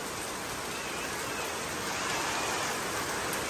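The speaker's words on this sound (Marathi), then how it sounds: "लय डेंजर पाऊस चालू आहे इथं." Heavy rain pours steadily and loudly outdoors during a downpour with flooded ground, a dense unbroken hiss of drops striking surfaces with no voices.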